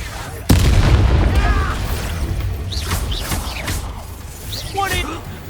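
An Expulso spell blast in Hogwarts Legacy strikes as a single sudden, loud boom that rolls into a sustained rumble, followed by fainter crackles and shouting voices.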